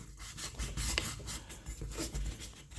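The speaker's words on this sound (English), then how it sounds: "let's give them a sand before we put some low gloss black on them" Hand sanding of rough, cheap gauge covers from a Kawasaki Z1 KZ900 motorcycle before low-gloss black paint: a steady, close, scratchy rasping with rhythmic back-and-forth strokes, played alone without talk.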